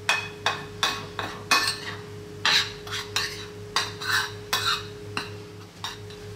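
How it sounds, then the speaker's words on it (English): Flour seasoned with salt, pepper and spices being mixed in a bowl for coating fresh sardines, a series of regular scraping, tapping strokes about every half second, close and fairly loud, with a steady low hum underneath and no voices. "We're simply just going to give this a little mix, season the flour up"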